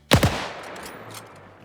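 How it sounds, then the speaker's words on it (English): A machine gun opens up in a WW2 video game with a quick pair of loud, close shots, then a long rumbling decay as the reverberation fades out. "oh, they brought the machine gun with them"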